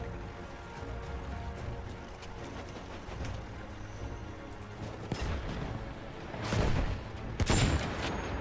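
Distant gunfire in Battlefield 1 during a foggy forest battle, with scattered faint shots under a steady ambient rumble, then two louder close shots near the end.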